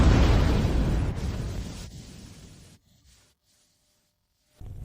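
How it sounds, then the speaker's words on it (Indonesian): An alchemy furnace explodes with a loud, rumbling blast that gradually fades into silence, followed by a brief burst of sound near the end. "Tungku pertama benar-benar meledak."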